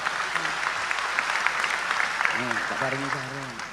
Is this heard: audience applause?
yes